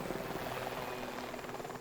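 A helicopter from the animated show Helluva Boss flies close by, its rotor thumping in a steady, loud, continuous drone.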